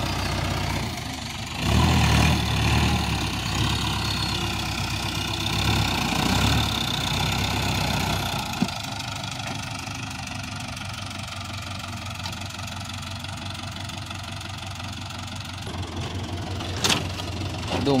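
A four-wheel-drive farm tractor's engine runs steadily in a field during planting, a loud continuous diesel drone with a rougher burst early on and a brief sharp knock near the end.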